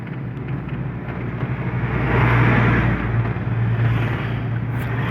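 Road traffic on a mountain road into Baguio City, Benguet, with a steady low vehicle rumble that swells in the middle, engine drone continuous and moderately close, no talking.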